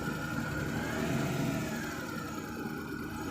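Car engine running steadily at a constant moderate pitch throughout, a continuous mid-range hum with faint rumble and no change in speed.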